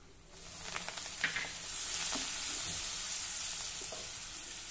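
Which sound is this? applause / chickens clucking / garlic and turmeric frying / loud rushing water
garlic and turmeric frying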